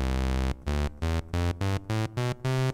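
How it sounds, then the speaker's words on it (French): A buzzy, harmonic-rich raw oscillator tone from an IK Multimedia UNO mini synthesizer: one long held note, then a series of short, evenly spaced pulses at different pitches, loud and dry with no talking. "ça c'est le son des oscillos"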